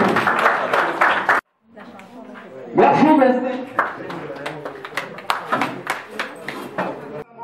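A small audience at a women's centre event claps in short rounds, with a brief silence early on, then voices and thanks rising over scattered, moderately loud claps that continue to the end.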